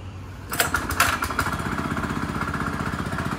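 A VST Shakti power weeder engine starts up and settles into a steady, rapid putter, close and fairly loud, with a few sharper bursts right after starting.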